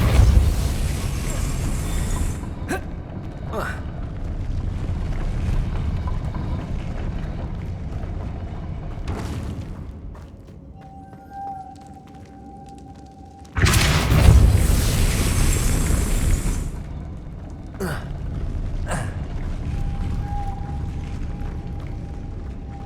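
Repeated Depulso spell casts in Hogwarts Legacy, each a deep booming blast over game ambience, with a louder burst midway and scattered sharp effects between them.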